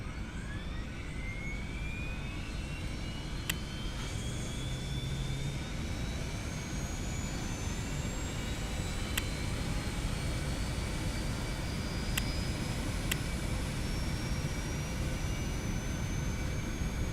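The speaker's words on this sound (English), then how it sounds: "See if we can get the left engine going." A jet engine on an Eclipse 550 in a flight simulator game spools up under a steady, dense roar, with a rising whine climbing slowly in pitch and a few faint clicks over a constant hum.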